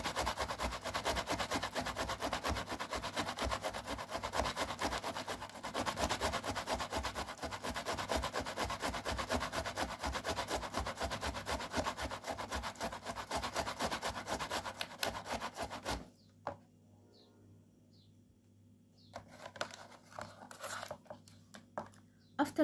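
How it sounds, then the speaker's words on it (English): Tomato grated by hand, a rapid rhythmic rasping scrape held close and steady for about fifteen seconds before it stops, with faint rustles after. "After grating the tomato like so, we need to strain it."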